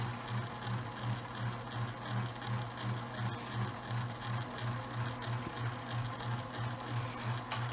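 Sewing machine stitching fabric for a homemade face mask, a steady rhythmic mechanical whir with regular pulses from the needle, close and even, running without pause and with no voices.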